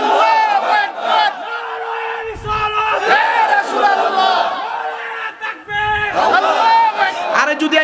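A large crowd at an Islamic sermon gathering chants a takbir in unison, loud sustained massed voices rising and falling in repeated waves with cheering energy, filling the whole stretch.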